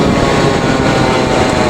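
A DT 86 motorcycle engine roars loud and close in one continuous, unbroken rev with no pauses or talking.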